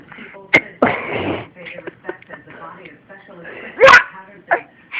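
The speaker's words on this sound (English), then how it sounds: "You need to stop burping, that's gross." A young boy burps, with a few abrupt, throaty bursts mixed among voices talking nearby, loud and close.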